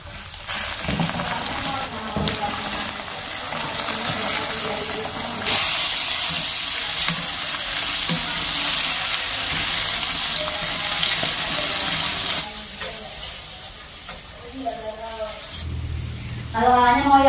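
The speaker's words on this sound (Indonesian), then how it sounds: "langsung aja kita goreng" Flour-coated catfish frying in hot oil, a loud continuous sizzle and crackle that rises sharply and holds steady, with a voice speaking briefly near the end.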